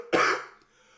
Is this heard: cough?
yes